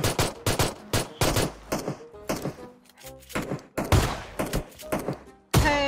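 Gunfire in the video game PUBG Mobile crackles in rapid bursts and single heavy shots, loud and close, with a short lull midway before the shooting resumes.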